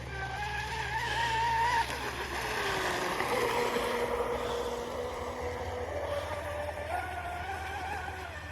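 The Miss Exide boat runs at three-quarter throttle on water, its motor a steady whining drone that swells and eases as it passes through turns and straights, with no talking.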